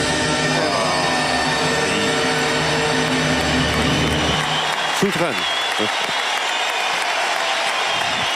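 Crowd at the Bercy arena in Paris applauding from all sides, a dense continuous roar of clapping and cheering with a commentator speaking over it and a sharp burst near the middle.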